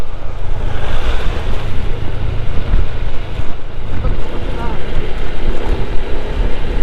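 Strong wind buffets the microphone while riding a motorcycle on a curving road, a loud, steady roaring rush with gusty low rumble throughout and no clear speech.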